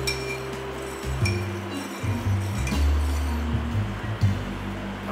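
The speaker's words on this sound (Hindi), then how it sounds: "अब ये हमने इसमें नमक मिक्स कर लिया है" A spoon stirs salt into a bowl, making repeated light clinks and scraping taps against the sides at close range, over a continuous low rumbling background.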